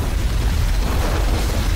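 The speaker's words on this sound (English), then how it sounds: "Plasma bombardment on the way." A plasma bombardment from orbit in the Halo Wars 2 game strikes as a sustained, heavy explosive roar, loud and close, rumbling steadily for the whole moment with no voices over it.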